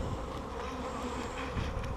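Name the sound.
honey bees buzzing around hive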